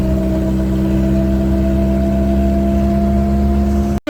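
A Zhiguli car engine drones in a steady, loud, close hum from inside the car as it drives, ending in a sudden cutoff.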